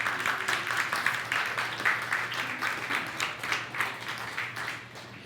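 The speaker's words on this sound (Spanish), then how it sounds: "Dale un aplauso, Señor, claro que sí" A church congregation at a Spanish-language worship service claps together, a steady wash of many hands at moderate volume with a faint low hum beneath, lasting several seconds without speech.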